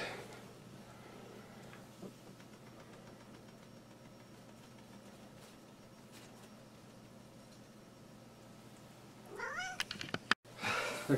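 A cat meows indoors, faintly at first under a low steady hum, then a burst of louder, close meows and rustling near the end, with no speech.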